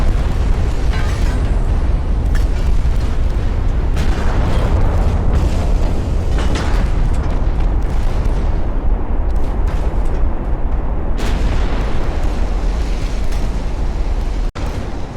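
Naval gunfire and a ship blowing up in Ultimate Admiral: Dreadnoughts, a 1936 Pacific battle: loud, dense rolling booms and blasts that run without a break, with sharp cracks of shots near the end.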